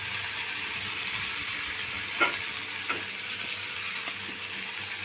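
Small mourala fish frying in a hot pan for a spicy fish curry, giving a steady, dense sizzle throughout, with a few faint scrapes or taps breaking through around the middle.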